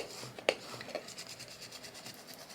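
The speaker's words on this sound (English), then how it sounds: "we're just gonna burnish this down with my scraper tool" A scraper tool burnishes adhesive vinyl down onto a surface with soft, faint rubbing strokes and a couple of light taps at the start, close and quiet.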